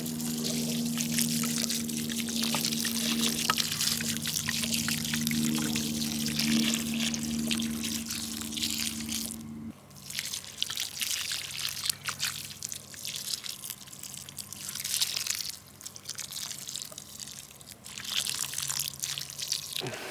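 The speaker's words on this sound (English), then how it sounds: "So we're gonna pour some water on these and water them in to make sure they're okay." Water is poured onto newly planted bare-root pecan, elderberry and weeping willow trees outdoors at a farm, a steady close splashing stream that shifts to an uneven trickle and gurgle midway, with no talk.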